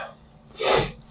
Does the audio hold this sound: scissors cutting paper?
no